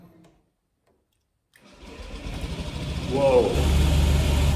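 A Honda Zoomer scooter engine cranks after a brief silence, catches and settles into a close, buzzing idle that grows steadier and louder, with a short spoken exclamation over it.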